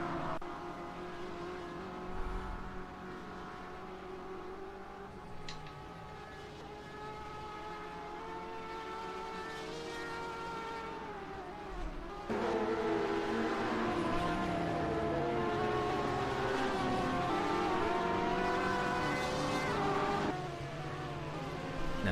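BMW and Porsche race cars in an rFactor 2 simulated endurance race drone continuously at high revs, with shifting engine tones and a louder surge partway through.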